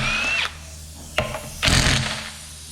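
A battery power drill drilling a hole into a tire for repair whines briefly, stops, then a short mechanical clunk and another burst of drilling, close up with no talking.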